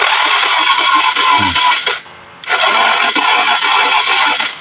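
A motorcycle engine is cranked with its starter during a check of a newly replaced pulser coil on a bike that will not start and gives no spark, and the loud cranking whine runs steadily, breaking off briefly midway before resuming.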